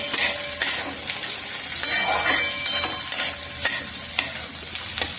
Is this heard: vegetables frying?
yes